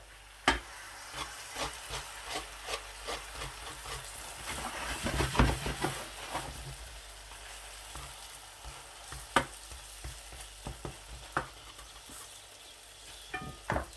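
Radish (mooli) paratha frying in butter or ghee on a flat pan, with a steady soft sizzle and crackle. Sharp scraping and flipping clicks come through at intervals, and no one speaks.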